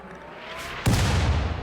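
A single mortar shot fires in RimWorld, a sudden broadband boom after a quiet lead-in, followed by a sustained rumbling tail, moderately loud and without talk.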